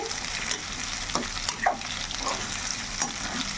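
Raw prawns sizzle steadily in a pan while being stirred, with soft scraping and occasional light clinks of the spatula against the metal, close and fairly loud, no voices.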